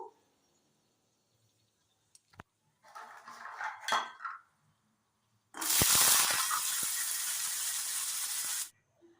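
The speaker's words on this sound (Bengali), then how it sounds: "এই তেলের মধ্যেই ছোলাটা দিয়ে একটু নেড়ে নেবো" Boiled chickpeas stirred in oil with half-dried red chilli in a pan. A quiet stretch with a few faint knocks gives way to a short burst of scraping and stirring, then a loud, steady sizzle that runs for about three seconds and stops abruptly.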